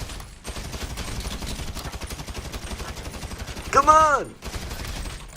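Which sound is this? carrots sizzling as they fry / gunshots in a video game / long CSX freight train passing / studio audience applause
gunshots in a video game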